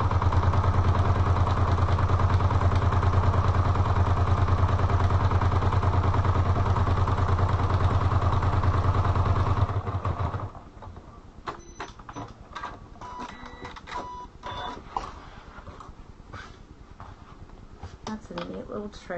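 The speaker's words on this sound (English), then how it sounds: "And we're just going to stitch." Sewing machine stitching a fabric cover for a spiral notebook, a steady loud mechanical whir with rapid needle rhythm for about ten seconds, then stopping to quieter handling clatter as someone talks.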